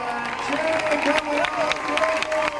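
A roadside crowd applauds and cheers the winner finishing the Hospital Hill Run, a steady wash of clapping at moderate distance with a commentator talking over it.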